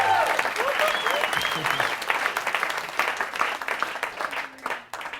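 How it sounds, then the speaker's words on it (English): Theater audience at a stage hypnosis show applauding the volunteer subjects: sustained crowd clapping with cheers and whoops, loud and full for several seconds before tapering off, with a voice coming through near the end. "Give them a huge round of applause"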